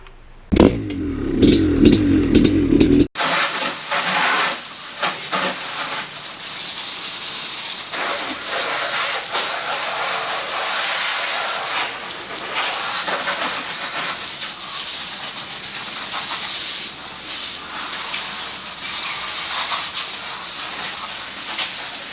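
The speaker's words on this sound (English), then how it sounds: "I need to wash the bike. So we're gonna do a quick wash" A 1983 Maico 490 dirt bike washed with a high-pressure water spray, a loud continuous hiss at close range with brief clattering at the start and no talking.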